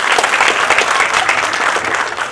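A brief burst of loud, dense clapping from the audience gathered at Ravindra Bhavan in Bhopal for a felicitation and book release.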